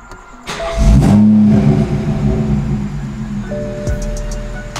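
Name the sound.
car engine being started and revved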